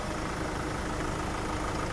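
A steady, low diesel engine idle from a 2009 Hyundai Grand Starex van drones evenly throughout, with a faint rattling texture and no other sounds.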